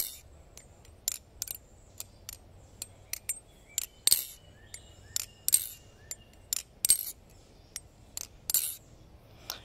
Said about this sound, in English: The back of the blade hits the inside of the channel.